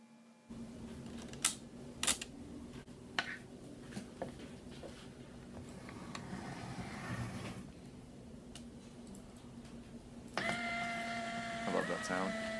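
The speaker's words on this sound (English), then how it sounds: "I've always wanted to shoot a proper video of the camera in action, taking a picture" A few sharp mechanical clicks over a low electrical hum, followed by a whirring motor as a LEGO-built Instax Mini instant camera ejects a picture, close by in a quiet room.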